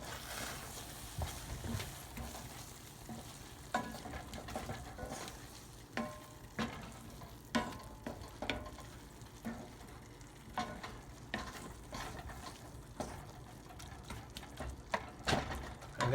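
Risotto cooking over medium to low heat in a pan, a faint continuous simmer and sizzle broken by repeated soft scraping stirs at irregular intervals, fairly quiet and close, no voices.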